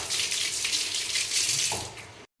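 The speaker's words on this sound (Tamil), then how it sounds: "சரி தண்ணி தெளிச்சு பார்க்கலாம்." Water splashes and patters on a person lying asleep, a steady bright wash of droplets lasting about two seconds, close by, with no talking, then cut off abruptly.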